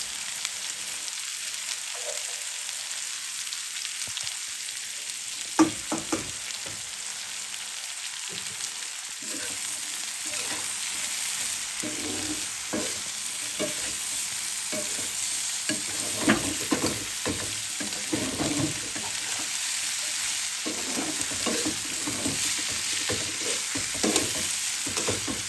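Potatoes and sliced green chillies fry in a pan, a steady soft sizzle broken by repeated scraping stirs of a spoon, fairly quiet and close, with no one talking.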